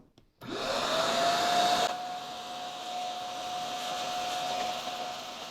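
A Bissell Pet Pro portable carpet cleaner switches on and runs with a steady whirring motor and a rising whine that settles into a constant tone, fairly close and with no talking.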